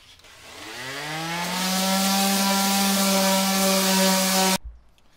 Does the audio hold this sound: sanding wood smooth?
yes